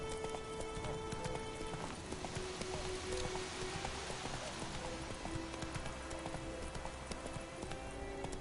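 Roach, the horse in The Witcher 3, gallops with steady rapid hoofbeats clip-clopping up close under a busy game soundscape of light rain and ambient tones, with no one talking.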